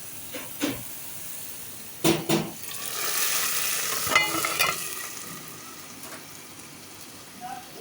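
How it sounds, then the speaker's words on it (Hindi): A golden-brown fried onion tempering is poured into a pot of nihari. Several sharp clatters come first, then a steady hissing sizzle of hot oil swells in the middle and fades with a few more knocks, nearby. "नहारी के अंदर हमने बघार लगा दिया है"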